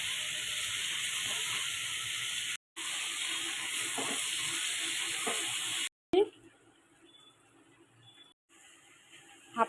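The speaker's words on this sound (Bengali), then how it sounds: "আমি সোয়াবিনের জন্য আলুটা ফ্রাই করে নিব।" Potatoes frying in hot oil for a soybean curry give a steady, loud broadband sizzle, broken by two brief gaps, then a quieter crackle with a few clatters of stirring near the end.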